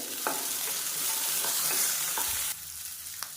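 Small shallots frying in hot oil for a chutney, a dense close sizzle with a few stirring scrapes, the hiss dropping sharply partway through and then continuing more quietly.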